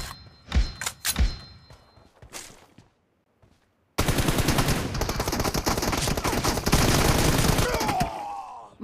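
In a PUBG Mobile match, a couple of sharp gunshots ring out, then a short lull, then a loud, sustained burst of automatic fire lasts several seconds.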